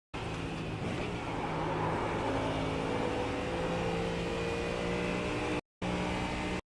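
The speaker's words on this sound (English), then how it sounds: "McLaren sounds like a goose." A McLaren race car on the Spa circuit in the iRacing sim holds a loud, continuous engine drone with a steady tonal whine that climbs slightly, briefly cutting out before resuming.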